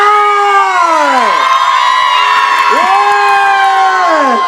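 At the Toufen tea-picking song festival in Miaoli, a crowd screams and cheers loudly to welcome a singer, with high shrieking voices rising and falling in sweeping waves.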